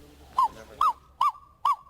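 A person imitates the call of the kagu bird of New Caledonia with four evenly spaced, loud, rising-falling hoots, each short and clear against a quiet background.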